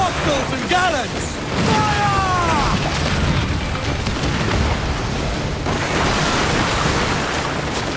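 Ship cannon fire in the Assassin's Creed Black Flag video game: heavy booming blasts over rushing ocean waves and wind at sea, loud and continuous, with voices shouting amid the battle.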